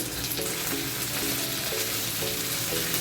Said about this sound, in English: Let this fry well